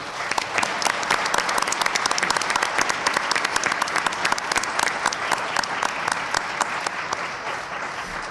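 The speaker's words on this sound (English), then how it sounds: "I'd like to give a round of applause to both candidates from everybody, please." Loud, sustained applause from an audience at a mayoral debate, dense clapping that carries on steadily throughout without pause.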